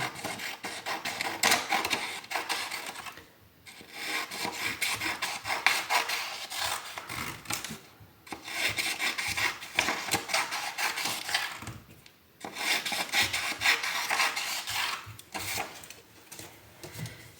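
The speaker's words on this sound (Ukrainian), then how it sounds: "Так само нарізаємо смужечки" Scissors snipping through coloured paper strips for a traffic-light appliqué, a steady run of crisp rasping cuts that pauses briefly every few seconds, close and fairly loud with no talking.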